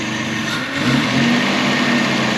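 A 50-year-old Volvo 164E engine, revived after sitting for 20 years, runs steadily and then revs up with a rising roar, loud and close with no talking.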